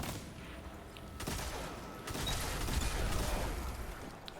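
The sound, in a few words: Thunderlord machine gun firing, from a Destiny video game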